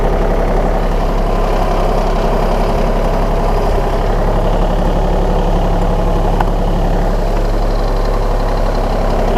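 A John Deere 2030R compact tractor pulls in low gear with a steady, loud, close diesel drone and a deep low rumble that holds unbroken throughout.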